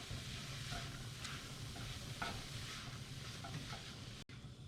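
Ground venison with Italian seasoning frying in a pan gives a steady, close sizzle with soft stirring scrapes throughout, cutting off abruptly near the end.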